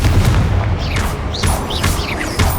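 A Confringo blasting spell cast in the video game Hogwarts Legacy, a loud continuous barrage of booming, crackling magical blasts with whooshing sweeps, dense and close with no talk.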